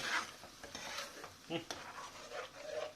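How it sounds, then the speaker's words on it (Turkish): Shell pasta with mushrooms is stirred through cream in a pan, giving faint wet sloshing and a light sizzle with a few scattered clinks of utensil on metal, quiet and close. "Kremayla da karıştırıyorum."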